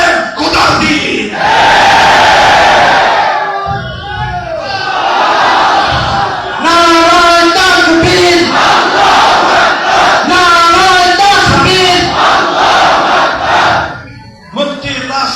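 A large crowd at an Islamic waz gathering chants a movement slogan in loud rhythmic unison, phrases called out and answered in repeated bursts with brief pauses between them, close and powerful.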